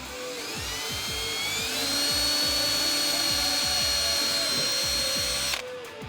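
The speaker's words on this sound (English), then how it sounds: "Now I'm going to drill one up top here." Close, loud power drill boring a hole for a fender flare on a 2014-2018 Silverado 1500, one continuous high whine that climbs in pitch and stops abruptly near the end.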